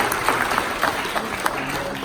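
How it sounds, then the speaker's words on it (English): An audience applauds a group of participants, a dense run of clapping from many hands at close range, with a few louder individual claps standing out and a faint murmur of voices underneath. "let's give them all a round of applause"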